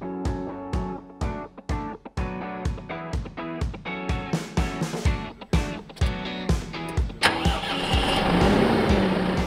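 A Valtra N154 tractor's heavy engine cranks repeatedly with rhythmic chugging, then catches and settles into a steady, loud running drone.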